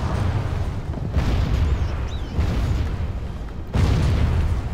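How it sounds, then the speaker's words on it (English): Cannon fire in the Total War strategy game Steam & Steel: a dense, continuous rumble of booming blasts, loud and low, with several sharper volleys surging through the din and no voices. "that's some killer range, too, with those cannons"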